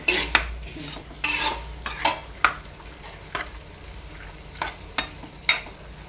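A pickle mixture is stirred through oil in a pan, with repeated metallic scrapes of a spoon against the pan over a faint sizzle, in irregular bursts about once a second.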